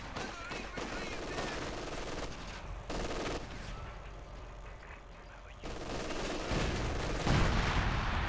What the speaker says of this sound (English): There's that AT gun from DevM